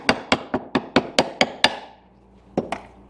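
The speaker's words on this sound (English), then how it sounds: "Just use a little hammer." A small hammer taps a front crankshaft seal into place on an LS engine during a rebuild, eight sharp close metallic raps in a quick steady rhythm, then a pause and two more taps.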